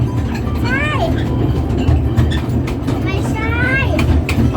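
An amusement park train ride at Dreamworld rumbles along with a steady loud low rolling drone, while high squealing wheel sounds sweep twice and faint clicks tick over the constant noise.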